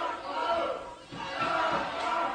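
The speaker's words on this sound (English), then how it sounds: "Listen to the crowd." A wrestling arena crowd in Ohio roars in a steady, loud wash of cheering for Brock Lesnar, dipping briefly near the middle before surging back up.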